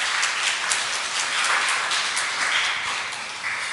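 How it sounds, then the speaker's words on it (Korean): Congregation applause during a Korean Sunday church service after a women's mission group sings a hymn: a dense, even patter of many hands clapping, steady and fairly loud throughout with no talking. "우리 에스더 여선교회에게 격려의 박수"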